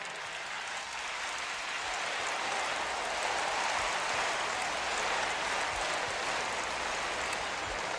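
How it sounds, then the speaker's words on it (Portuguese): An audience claps for Christian teachers at a church service, a steady, even wash of applause that swells slightly and holds for about eight seconds, heard at a moderate distance with no speech. "Dê uma salva de palmas para esses professores, pois eles merecem."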